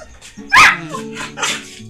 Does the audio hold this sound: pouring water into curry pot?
no